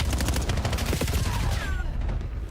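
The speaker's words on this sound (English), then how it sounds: "Wow, what a hail of gunfire." Dense, rapid gunfire from a Call of Duty League esports match, with overlapping automatic bursts crackling continuously at close range before thinning out near the end.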